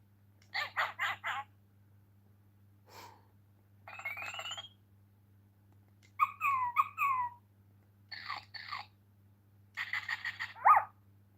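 Small electronic barks and yips from a toy dog come in short bursts separated by pauses, thin and synthetic-sounding against a faint background hum.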